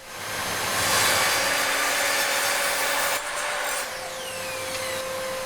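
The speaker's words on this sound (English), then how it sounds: "This is a different kind of saw. It's called a miter saw." A power miter saw cross-cuts wood: a loud, steady whining roar of blade and motor through the cut, then the pitch drops as the blade spins down.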